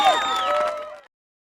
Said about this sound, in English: tons of characters are cheering